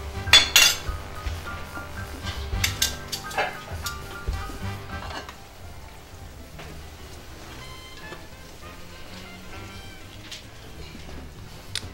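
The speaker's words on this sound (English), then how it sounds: "All right, now I'm about to plate." Plates and cutlery clink and rattle during the plating of fettuccine, whole wheat spaghetti and shrimp, with scattered sharp clinks clustered in the first five seconds and then a quieter, steadier kitchen background.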